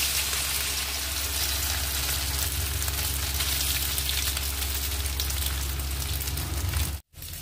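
Soya chaap pieces deep-frying in hot oil, a steady loud sizzle and crackle held evenly throughout before cutting off abruptly near the end.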